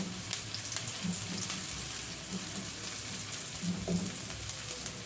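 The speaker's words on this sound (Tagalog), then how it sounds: "Kasi yun, nilagay na natin yung chicken para magisa." Chicken sautéing in a pan with onion and garlic while pancit bihon is being cooked, giving a steady, fairly quiet sizzle with occasional soft stirring, and no talking.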